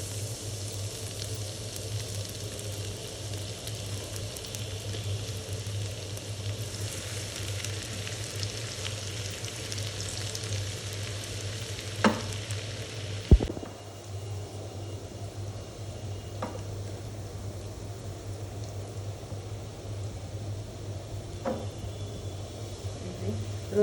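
Garlic browning in a couple of spoons of ghee for beef haleem gives a steady, low-level sizzle throughout, with a few brief clatters of utensils in between.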